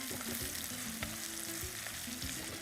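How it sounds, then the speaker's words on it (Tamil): Onions sautéing in oil with dried red chillies, a steady close sizzle and fry with occasional stirring scrapes, continuous and alone without voices. "வெங்காயம் போட்டு நல்லா வதக்கணும்."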